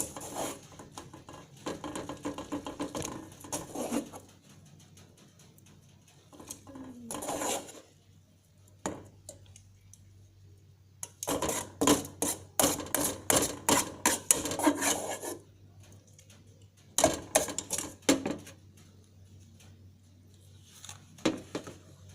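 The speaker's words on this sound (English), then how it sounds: "Mix the noodles into the seasoning." Instant Lemonilo noodles being stirred into seasoning in a bowl, heard as repeated close scraping and rubbing strokes in bursts separated by brief quiet gaps, with no talking.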